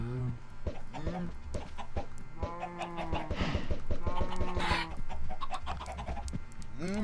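Chickens cluck repeatedly in a modded Minecraft game, with several clucks and squawks spread across the stretch at moderate loudness, and someone speaks intermittently over them.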